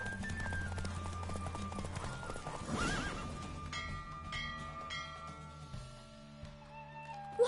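Horse hooves gallop at speed during a race in The Witcher 3, with whinnies and game music layered over steady running hoofbeats, a busy mix throughout.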